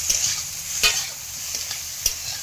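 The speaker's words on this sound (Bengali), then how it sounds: "এরকম ফুলকপিটাকে একটু নেড়ে দিতে হবে হালকা করে" Cauliflower sizzles in a frying pan while a spatula stirs it in a few light scrapes over a continuous hiss of hot oil.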